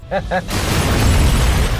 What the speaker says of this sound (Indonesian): Seketika, mobil itu meledak dengan Steve di dalamnya.